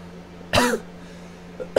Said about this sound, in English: I'm trying to cough away from the microphone so that I don't blow your guys' ears.